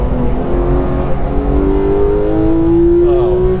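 A 500-horsepower Porsche 911 GT3 accelerates hard on a race track, its engine note climbing steadily in a sustained loud rising drone from inside the car.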